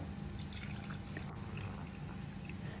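Milk from a 250 ml cup poured onto condensed milk for a pudding, a soft steady liquid pour with faint drips, quiet and close.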